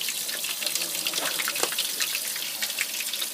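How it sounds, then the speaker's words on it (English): Cold tap water runs steadily over a whole turkey in a sink, a continuous close splashing hiss with small gurgles and no talking. "I'm going to put cold water over the turkey"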